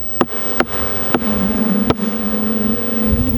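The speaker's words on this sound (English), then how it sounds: "there's a bee in the dead cat on the mic" A bee caught in the microphone's furry windscreen during honey extracting buzzes steadily and loudly right against the microphone, with a few sharp taps and bumps at the start.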